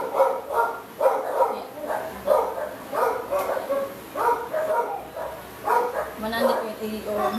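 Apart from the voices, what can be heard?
dog barking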